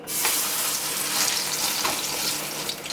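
A vegan pot roast fries in hot oil in a pan with a steady, loud, close sizzle and crackle throughout, with no voices over it.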